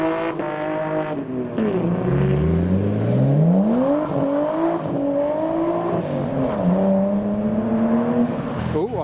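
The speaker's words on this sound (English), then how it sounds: "Someone else is doing a burnout. It is R33, hope his brakes work." An R33 doing a burnout at a JDM car meet, its engine revving and whining in long rising and falling sweeps, loud and close, with crowd noise underneath.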